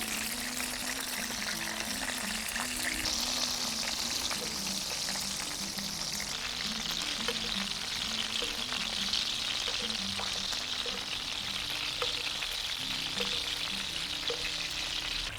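Chicken skins frying in a pan, turned onto their sides to brown, giving a steady, even sizzle and crackle with faint pops, quiet and constant throughout.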